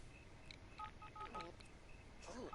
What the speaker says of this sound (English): The beeping of the phone.